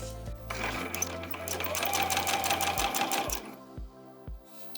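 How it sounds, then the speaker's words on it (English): A sewing machine stitches rows along a selvage-edge zipper bag in one loud, fast, continuous mechanical run lasting about three seconds, then stops and leaves a few soft clicks and handling noises close by. "I'm going to go ahead and sew a couple of rows of stitches"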